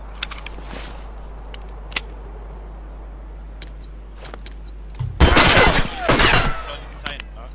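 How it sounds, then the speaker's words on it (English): Gunfire in a Fortnite match: a loud, dense burst of shots with rattling impacts in the latter half, after scattered faint clicks and pops, over a steady low hum. "Someone's shooting."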